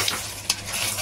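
Meat being stirred and fried in a pan in a home kitchen, a steady close sizzle with a sharp scrape of the spoon midway, no talking.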